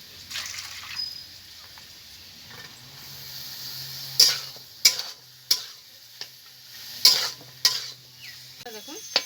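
Olive chutney ingredients with cashews and raisins fry in a pan under a faint background sizzle, broken by several sharp, close clanks of a spoon stirring against the metal.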